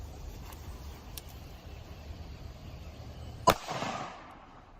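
A single sharp shot rings out from a SIG P365 pistol with a 3-inch barrel, firing Underwood Extreme Defender ammunition during a ballistics gel test, followed by a short fading echo after quiet background.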